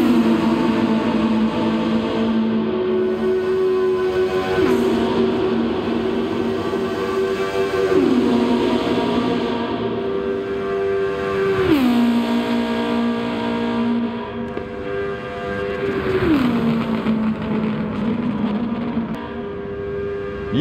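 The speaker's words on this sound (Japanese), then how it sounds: "エンジンを聞きましょう。" A fully tuned Mitsubishi Lancer Evolution IX in Gran Turismo 7 at night on the Tokyo Shuto expressway, its engine droning steadily then dropping pitch in repeated upshifts, loud and alone with no talk.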